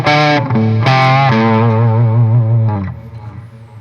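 Electric guitar with humbucker pickups, a 335-style instrument, played through a Chandler GAV 19T amp with a throaty, hoarse overdriven tone: a few sustained distorted chords ring out loud and alone, then fade.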